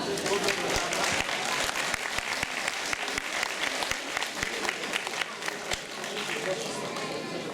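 Warm applause from an audience at an award ceremony, many hands clapping steadily and densely throughout, loud and sustained with a few sharper claps standing out.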